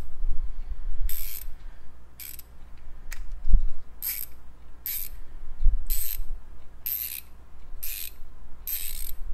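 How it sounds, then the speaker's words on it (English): Repeated bursts of bright, rapid clicking from a metal ratcheting screwdriver, about eight short runs at an even pace, close up, with a couple of dull knocks between them. "Sounds like it has a pretty good ratchet in there too."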